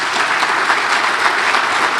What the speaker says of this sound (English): So a big round of applause for everybody here tonight